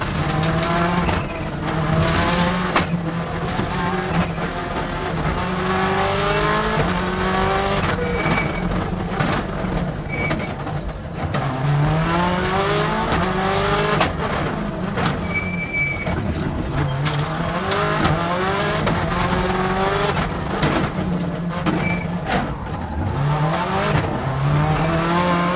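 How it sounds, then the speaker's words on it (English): Loud in-car engine roar from a 2000 Subaru Impreza World Rally Car, revving hard through repeated upshifts and downshifts with sweeping pitch changes and backfire pops over a long continuous run, no voices. "There was something about the engine noise of that 2000 Subaru."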